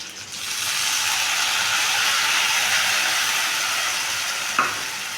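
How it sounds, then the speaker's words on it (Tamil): Tamarind water hits a hot pan for a South Indian tamarind curry, bursting into a loud, steady hissing sizzle that fades slightly, close by, with a small clink near the end. "நம்ம இந்த ஸ்டேஜில் புளி கரைச்சி ஊற்றிக்கலாங்க."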